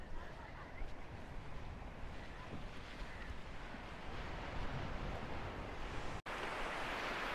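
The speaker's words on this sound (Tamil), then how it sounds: "இது பாருங்க அலை எப்படி அடிக்குதுண்டு" Ocean waves break steadily on the shore beside a seaside temple, a continuous rushing surf with strong wind buffeting the microphone, a brief dropout near the end, and no speech.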